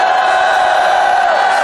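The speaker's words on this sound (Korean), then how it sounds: "수고하신 김경재 총장에게도 감사의 함성을 보내시기 바랍니다." Large outdoor rally crowd at Gwanghwamun for the August 16 national assembly roars with cheers and shouts of thanks, a dense, loud, continuous wall of voices.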